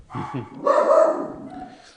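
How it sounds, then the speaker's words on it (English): Dogs bark in short, excited bursts, a couple of quick yips followed by a longer, louder run of overlapping barks, close by indoors. "we got the dogs going crazy"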